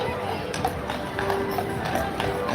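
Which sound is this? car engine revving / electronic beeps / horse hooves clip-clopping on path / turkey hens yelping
horse hooves clip-clopping on path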